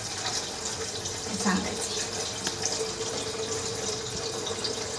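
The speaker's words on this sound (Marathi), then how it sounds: "टाकीचं नळ बारीक आहे ना, बारीक घेते पाणी घ्यावं लागते" A thin stream of water runs steadily from a tank tap while dishes are washed, heard close. Someone talks over it.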